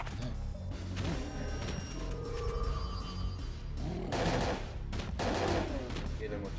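Gunfire and impacts in Parasite Eve 2, a dense, loud wash of shots and crashes running throughout under game music, with someone talking over part of it.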